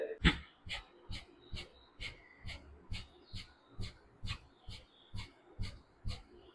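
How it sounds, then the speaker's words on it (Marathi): Forceful nasal exhalations during a pranayama breathing exercise, about a dozen sharp, short puffs in a steady rhythm, roughly two per second, close and moderately soft, with no talking. "फक्त श्वास सोडत राहायचंय, श्वास घेण्याकडे लक्षच द्यायचं नाहीये."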